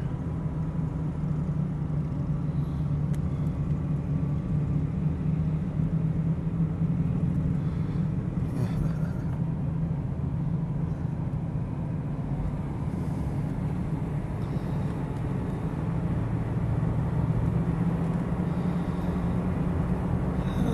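Motorcycle traffic rumbles along at a memorial toy run in Quesnel, BC, a continuous low engine drone of several bikes idling and rolling in congestion, with no talk.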